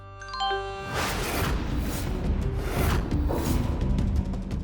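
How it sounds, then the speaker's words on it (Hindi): A bright, short chiming tone rings at the start, followed by a steady wash of wind and background noise. "किसका फोन बजा?"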